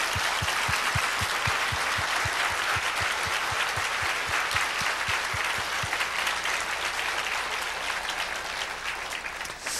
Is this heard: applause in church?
yes